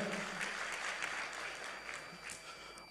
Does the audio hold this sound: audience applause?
yes